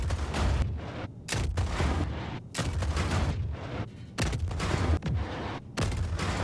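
Missile strikes and gunfire hit a player's armored caterpillar vehicle in a combat video game, with loud repeated blasts and rattling volleys arriving in bursts, one after another, with no talking.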